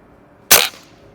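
One sharp shot from a Beeman 1358 underlever air rifle rings out while plinking in a backyard. It is a single close crack with a short fading tail in otherwise quiet surroundings.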